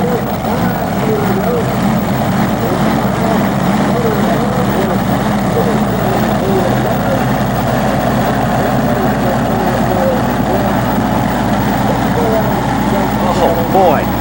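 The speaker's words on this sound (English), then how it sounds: "Here comes a master competitor, Dave Banter on the Banter Brothers Brown. 6, count 'em, 6 supercharged 490 cubic inch Chevys." A tractor-pull monster with six supercharged 490 cubic inch Chevy engines roars in a steady, dense, heavy drone at an NTPA pull in Bowling Green, close and sustained, with an announcer talking over it.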